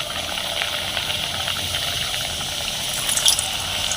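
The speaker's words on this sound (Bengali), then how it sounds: "সিঙ্গারাগুলো কিন্তু পুরো দোকানের মতন ভাজা ভাজা করে নিচ্ছি" Samosas fry in hot oil with a continuous close hiss and a soft, bubbling sizzle, steady throughout with no voices.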